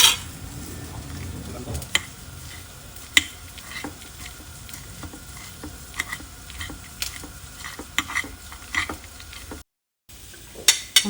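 Onions sauté with a low, continuous sizzle while a fork scrapes and clicks through cooked chicken, shredding it for pepper chicken, with scattered utensil taps and a brief dropout near the end.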